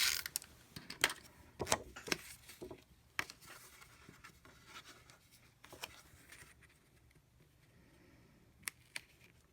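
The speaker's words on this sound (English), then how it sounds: "I'm going to use some snail adhesive to put this on the inside of the card." Snail tape adhesive rolled onto the inside of a Stampin' Up! Christmas card: a run of small sharp clicks, taps and scratchy rolling sounds, close and fairly quiet, with short pauses between.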